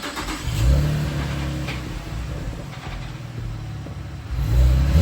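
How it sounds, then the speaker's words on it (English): A stock V6 Chevrolet Camaro engine idles and revs in two short bursts, the moderate exhaust note rising and settling between them. "That sounds like a completely stock V6 Camaro."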